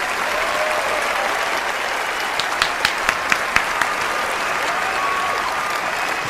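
An online community awards show audience claps for a winner, a steady wash of applause throughout with a few sharper individual claps standing out midway.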